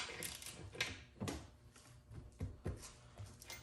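Oil drain plug on a Mercury 250 Pro XS four-stroke outboard being loosened, a few scattered metallic clicks and ratcheting ticks close by over a faint background, without talking.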